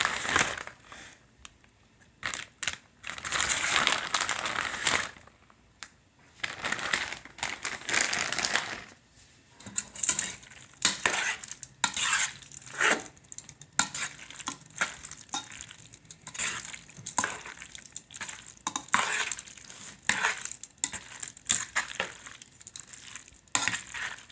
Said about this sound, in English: For the remaining udon noodles, I am going to actually mix the mozzarella in